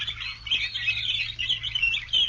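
Several birds sing and chirp continuously at the Indiana Dunes on Lake Michigan, bright overlapping calls with a steady low hum underneath, moderately loud, and no voices.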